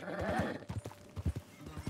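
Horse hooves clip-clop at a steady riding gait in the Red Dead Redemption 2 video game, close and clear, with a horse's whinny over the first part.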